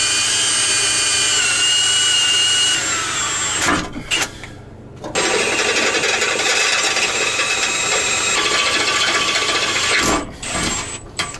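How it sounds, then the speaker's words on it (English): A power drill whines steadily at high speed drilling pilot holes for self-tapping screws in an enclosed car trailer, pausing briefly twice, its loud grinding buzz continuing close by with no talk. "Gotta drill some pilot holes for our self-tappers."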